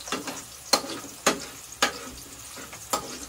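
Garlic frying in a pan for a home-cooked dish, a steady close sizzle punctuated by several sharp scraping stirs about every half second to a second.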